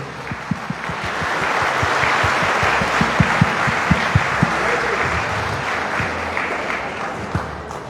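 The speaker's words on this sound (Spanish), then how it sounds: "El aplauso para doña Dolores." A church congregation at Sunday Mass breaks into sustained applause for doña Dolores on her 91st birthday, dense clapping filling the room with a few sharper claps standing out near the front.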